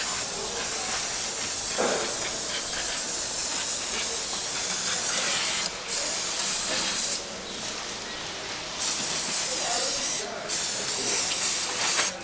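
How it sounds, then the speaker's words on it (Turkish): Steady, loud engine cleaner spray hissing close by on a Peugeot 206 1.4 HDi engine, running in long continuous bursts with brief pauses between them. "Şu örtün çıkarttığı motor temizleyici sprey çok güzel bir şey"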